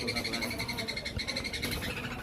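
Myna birds call repeatedly in bright, piping notes that run steadily through the whole stretch, close and fairly loud over the busy background of a bird market in Mirpur.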